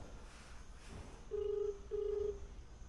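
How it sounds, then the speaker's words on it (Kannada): Two long ringback tones of an outgoing phone call sound through a speaker, evenly spaced, over faint background hiss and with no one talking. "ರಿಂಗ್ ಕೂಡ ಆಗ್ತಾಯಿದೆ."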